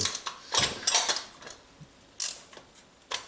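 A ratchet wrench with a 65x14 socket tightens a part on a Honda Civic 6 under repair, giving a few quick close metallic clicking bursts separated by short pauses.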